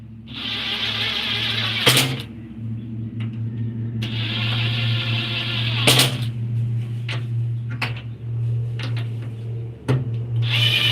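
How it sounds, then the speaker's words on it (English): Screws driven into scrap wood with a drill while building a table, a steady low motor hum broken by bursts of bright whirring and a few sharp knocks. "use the other to drive in the screws"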